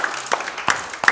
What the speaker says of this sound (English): Give him one more hand clap today.